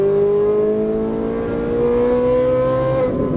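A Ferrari 458 Italia's engine accelerates on a track, a loud, close, sustained mechanical tone that climbs steadily in pitch as the revs rise, ending in a brief shift.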